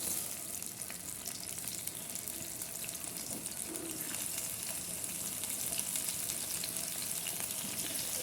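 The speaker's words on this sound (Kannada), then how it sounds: "ಒಂದು 4 ಟೊಮ್ಯಾಟೊನ ಎಡ್ಜಸ್ ಎಲ್ಲ ಕಟ್ ಮಾಡಿಕೊಂಡು ಈ ಥರ ಎಣ್ಣೆಲಿ ಹಾಕಿಬಿಟ್ಟು ಫ್ರೈ ಮಾಡೋಣ" Tomatoes with their edges cut off fry in oil in a pan, giving a continuous soft sizzle with faint bubbling and light stirring. Nothing else breaks through and no one speaks.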